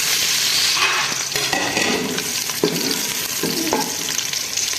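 Onions frying in hot ghee for kadhi pakora, a dense, close, steady sizzle with occasional scraping and stirring knocks against the pan, heard alone without speech.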